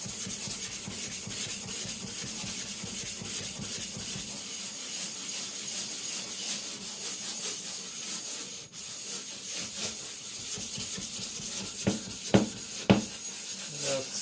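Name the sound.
sharpening an Eden Kanso Aogami gyuto on a 400 whetstone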